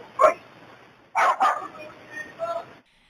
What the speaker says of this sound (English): They're heard again over the sound of barking dogs.